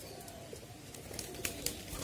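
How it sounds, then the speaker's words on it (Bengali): Pigeons let out of a cage one by one, soft cooing and a couple of light flutters over a steady hiss of background noise, close by. "আমি কবুতরগুলি ছেড়ে দেবো দেখেন কবুতরগুলি কি মানে কীভাবে বের হয়ে যায়"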